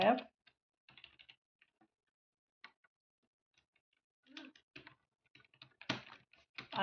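Typing on a computer keyboard comes in short clustered bursts of crisp, close keystrokes separated by quiet gaps, with a brief voice at the start.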